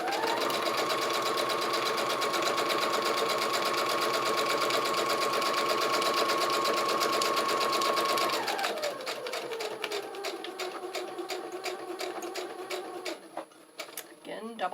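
A sewing machine stitching through a junk journal, a fast steady mechanical whir that slows and changes pitch partway through, then gives way to lighter ticking and handling clicks.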